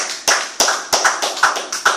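A church congregation clapping in praise of Jesus, a loud, close run of roughly eight sharp claps in a quick, slightly uneven rhythm with no talk.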